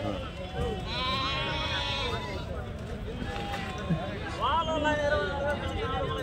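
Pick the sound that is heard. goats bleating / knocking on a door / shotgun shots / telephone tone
goats bleating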